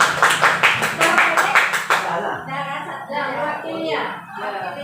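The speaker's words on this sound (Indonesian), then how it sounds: "Nah, tepuk tangan. Tepuk tangan buat pemirsa." Clapping from an audience at a school gathering, a short burst of rhythmic claps that fades out as people begin talking and chuckling.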